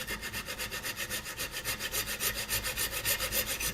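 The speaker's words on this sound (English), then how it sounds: "Let's see if I can cut this with a metal cutting blade on a coping saw." A coping saw fitted with a metal-cutting blade saws through a small metal pin held in a vise, part of refurbishing a Ludwig Speed King drum pedal. Steady, rapid back-and-forth rasping strokes repeat evenly and close up throughout.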